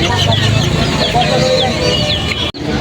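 Thirty-five-day-old tiger breed chickens cluck and squawk nearby at a busy fancy poultry market in Kaptan Bazar, with repeated short calls over crowd chatter.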